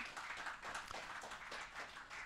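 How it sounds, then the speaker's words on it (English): Audience clapping at a telecoms conference talk, a steady, dense patter of many hands that stays fairly quiet and even throughout, with no voices over it. "So a round of applause for what Vish shared with us there."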